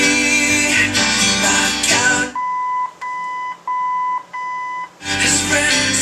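The original AM radio of a 1966 Chevy C20 pickup gives a series of clear, steady electronic beeps, four or five short tones in a row, between stretches of loud music.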